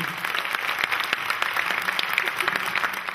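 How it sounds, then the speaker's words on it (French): Sustained clapping from an audience applauding in support of Electrolux and Arthur Martin workers, dense and even with crisp individual claps standing out, moderately loud throughout. "Je vous demande d'applaudir pour soutenir les salariés."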